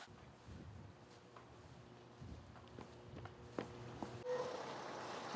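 Strong wind blowing outdoors in Pyoseon-ri, a coastal village on Jeju, rumbling steadily across the microphone with gusts, some light footsteps and faint clatter mixed in, no talking.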